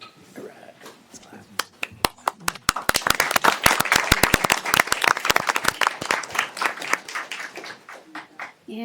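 Applause at a city mayor and council meeting, scattered claps building into steady clapping from a room of people that thins toward the end, with murmured voices underneath.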